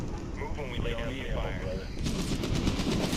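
Medal of Honor video game gunfire, a steady run of sharp shots that grows louder and denser after a quieter stretch of game noise, with a voice talking over it.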